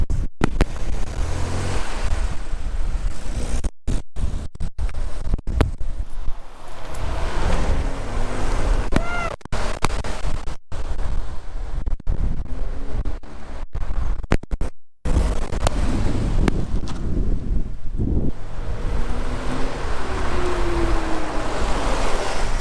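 A Chevrolet Corvair fitted with new carburetors drives along, its engine and road roar running continuously under heavy wind buffeting, with a few brief dropouts along the way.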